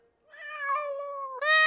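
A cat gives two drawn-out meows close by, the first long and wavering, the second sharper and higher-pitched, with no talk over them.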